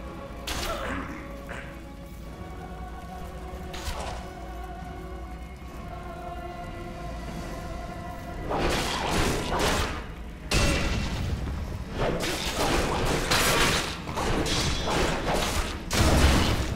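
Gunfire aimed at the player in the Neverwinter video game, Blacklake District, comes as repeated loud booming thuds and cracks in bursts over a droning game backdrop.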